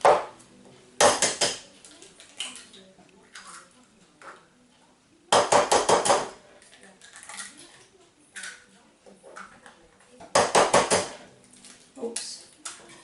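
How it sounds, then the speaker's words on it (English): Eggs are cracked into a bowl and beaten with a fork, giving three loud bursts of rapid clinking, knocking strokes against the bowl, separated by quieter pauses with softer taps and handling noises. "I'm going to crack those into this bowl and then just beat them up."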